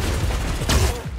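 Shotgun blasts in the video game Atomic Heart: a quick burst of several booming shots close together over a dense, noisy game soundscape.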